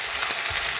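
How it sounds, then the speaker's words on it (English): Okra, green beans, sugar snap peas and carrots fry loudly in a pan, a close, continuous hiss and sizzle with no talking, some pieces still slightly wet. "frying quite loudly"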